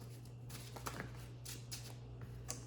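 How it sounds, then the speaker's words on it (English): Two Yu-Gi-Oh card decks are shuffled by hand at a table, making soft, papery riffles and flicks in short, uneven bursts. The shuffling is faint and close, over a constant low electrical hum. "I'm going to shuffle both decks"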